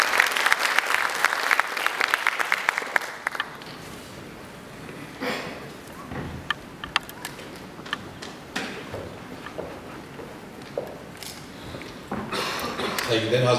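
Audience applause at a ceremony honoring martyrs' families and veterans, a dense burst of clapping at the start that thins into scattered claps and room noise, with a voice speaking briefly.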